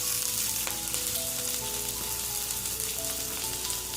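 Ginger, garlic, onion and green chilli frying in a pan, a loud, steady crackling sizzle heard up close throughout, with occasional light stirring and no voices.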